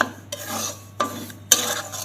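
Semolina dry-roasting in a pan for payesh is stirred in rasping, scraping strokes that come in three close bursts, with no talking.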